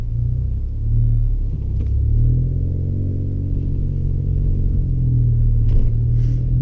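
A Ford Focus ST on a cold day, its engine not yet warmed up, drones as a steady, loud low rumble inside the car while driving, with slight rises in pitch and faint clicks near the end.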